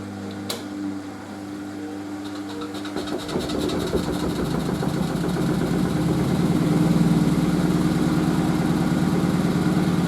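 A washer dryer drum spinning up to 500 RPM, a steady loud mechanical whir and hum that rises in intensity as the spin builds.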